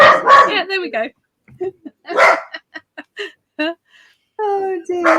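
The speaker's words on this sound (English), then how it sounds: "That's the dog barking." A dog named Eric barks at builders, several sharp yips and barks in quick bursts close by, with a person talking over and between them.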